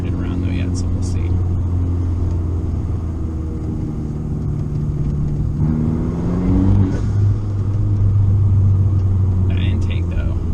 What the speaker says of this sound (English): That intake though sounds fantastic.